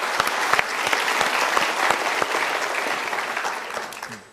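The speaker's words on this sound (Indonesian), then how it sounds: "Kita berikan tepuk tangan dulu." An audience at a motivational seminar breaks into applause: loud, close, sustained clapping from a packed room, with sharp individual claps standing out at the front before it tapers off at the end.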